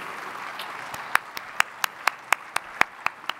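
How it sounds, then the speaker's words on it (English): Scattered hand claps from a small conference audience, a dozen or so sharp claps in an uneven rhythm over a soft background murmur. "I'd like to give you an applause"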